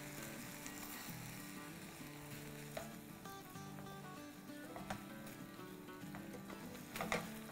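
Pizza filling being stirred as it fries in a pan, a soft steady sizzle with faint scraping and a few light clicks, fairly quiet and close, no talking.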